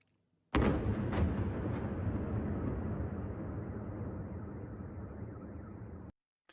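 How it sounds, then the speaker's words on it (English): A single loud explosion booms in Kyiv at night, a sharp blast followed by a long rumbling roar that slowly fades before cutting off. "It only sounded like a singular explosion"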